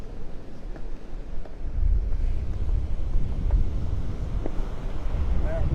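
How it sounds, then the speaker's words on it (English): Strong wind whipping in off the Gulf of Mexico at a beach after a hurricane, a steady roaring rush buffeting the microphone, with rough surf blended into the low rumble throughout. "That wind is still whipping in off the Gulf."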